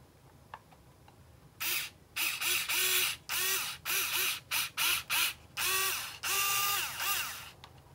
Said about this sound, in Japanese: このネジで留めるので、あらかじめネジ山を作っておきます。